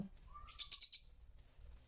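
Lutino pet birds chirp in a short burst of several quick, bright, high-pitched notes at moderate distance, with no talking.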